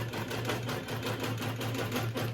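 A long-arm quilting machine stitches rapidly and steadily while basting heavy, starched fabric, a close, even mechanical chatter with a low motor hum underneath.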